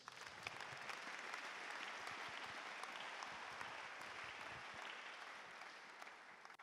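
A church congregation applauding, a full, even wash of many hands clapping that stays steady throughout and sounds somewhat distant and roomy.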